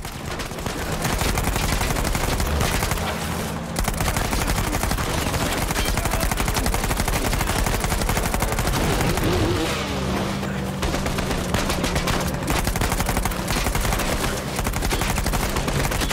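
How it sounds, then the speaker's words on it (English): Rapid bursts of submachine gun fire in the video game Uncharted 4, loud and sustained over several seconds, with vehicle engine noise and chaotic action sounds underneath. "Thank goodness I had the SMG."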